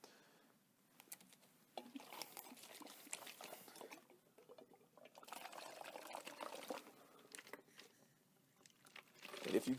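Water glugging and swirling as it drains from a bottle spun into a vortex, a quiet, uneven stream of pouring and trickling that swells and fades over several seconds, ending louder.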